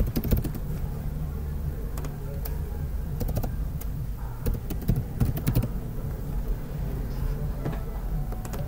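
Keystrokes on a computer keyboard during a Manjaro XFCE 17.0.2 installation, irregular clusters of close taps and clicks over a steady low background hum, with no talking.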